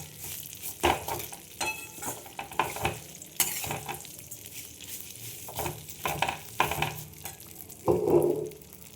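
Vermicelli frying in ghee in a pan, stirred repeatedly so soft sizzling is broken by scraping spoon strokes and light clinks, close and moderately loud.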